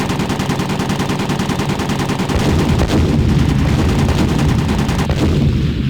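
Loud, sustained ground anti-aircraft fire in the World War II flight game Beyond Pearl Harbor: Pacific Warriors, a steady rattle of rapid shots with heavy low rumble and no voices over it.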